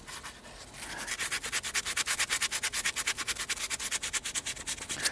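A sanding pad rubbed back and forth over the rough leather of a BMW E30 M3 Sport Evolution steering wheel, fast even strokes that build into a steady scratchy rhythm, close and quiet.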